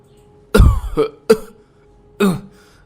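An old woman coughs in four harsh, throaty bursts spaced over a few seconds, close and loud against a quiet background with a faint steady hum.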